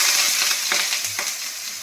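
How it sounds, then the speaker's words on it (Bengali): Onions frying in oil with five-spice tempering for a mixed vegetable fry, a steady close crackling sizzle with a few soft stirring scrapes and no talking. "পেঁয়াজটাকে ভেজে নিই ভালো করে।"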